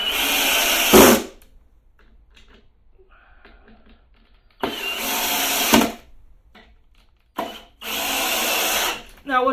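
A power drill drives deck screws into wood for an indoor grow bed, in three loud whirring bursts of about a second each separated by quiet pauses, with a faint voice in between.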